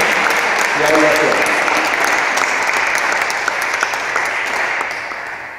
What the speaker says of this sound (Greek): Θέλω να τους χειροκροτήσουμε πάρα πολύ ιδιαίτερα